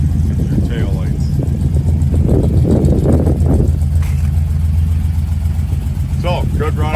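A 1961 Ford F100 pickup engine runs at a steady idle, a continuous low rumble throughout, with someone talking over it for a few seconds.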